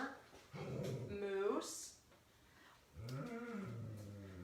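A dog named Moose barks and growls indoors near a door at a neighbor working outside on a lawn, with a few harsh, vicious-sounding bursts close by, mixed with a person talking over and between them.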